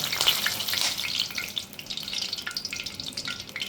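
Onion pakoda sizzling in hot oil, a close, steady, bright crackle of frying with no talking over it.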